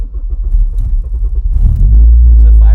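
Honda K24 engine on a dyno firing up, rumbling low and then settling into a loud, steady rising drone as revs build toward the end, close and dominant with no talk over it.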